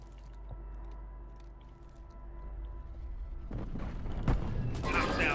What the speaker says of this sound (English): Precision airstrike inbound.